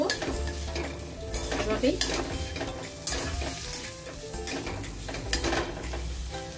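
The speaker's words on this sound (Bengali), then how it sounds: "এখন যেই গরম মশলাটা রেখেছি ওটাও অ্যাড করে দেবো, দিয়ে একটু নাড়াচাড়া করবো" Elephant foot yam being stirred and fried with garam masala in a pan, with a steady close sizzle and repeated scraping strokes of the spoon against the pan. A voice speaks briefly.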